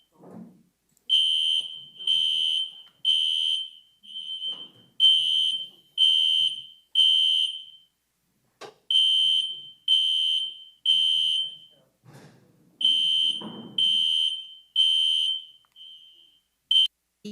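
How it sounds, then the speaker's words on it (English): A fire alarm in a courtroom sounds in repeated bursts of three sharp, high beeps separated by short pauses, loud and steady, with faint voices between the bursts. "that's the fire alarm"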